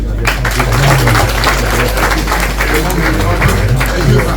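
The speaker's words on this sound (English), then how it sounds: "I will ask for another round of applause for Chief Olusegun Obasanjo" A crowd applauds Chief Olusegun Obasanjo at Dele Momodu's 65th birthday celebration: loud, dense, continuous clapping that fills the whole stretch, with voices mixed into it.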